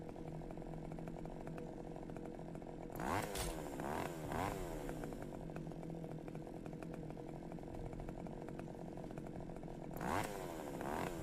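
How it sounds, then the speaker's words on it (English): Chainsaw in the horror game Cursed Digicam, a constant loud, rough engine drone running throughout, with sharp revving surges near the start and again near the end; no voices are heard. "Where did he get a chainsaw?"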